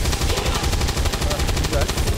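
Sustained burst of automatic weapon fire in the tactical strategy game XCOM 2: loud, rapid, evenly spaced shots rattling continuously for about two seconds with no pause, close and dense, heard without talk over it.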